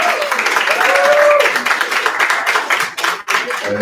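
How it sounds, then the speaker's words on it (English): Applause from the crowd at a Poets & Pints poetry reading night for poet Sarah, steady clapping that thins and breaks up toward the end, with a faint tonal sound and some voices mixed in. "Let's get another round of applause for Sarah"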